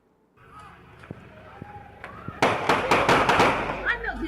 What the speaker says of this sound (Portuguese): homens fortemente armados entraram, invadiram o cemitério e efetuaram diversos disparos durante a cerimônia fúnebre